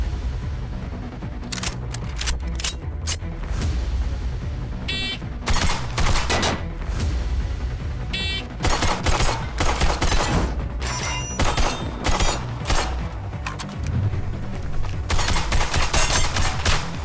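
Rapid strings of sharp gunshots from 9mm pistol-caliber carbines, a budget AR-9 and a Ruger PC Carbine, fired in fast bursts with short pauses, loud and close at an outdoor range, no talking.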